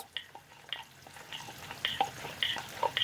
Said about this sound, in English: So we are mixing it properly to make it more homogeneous.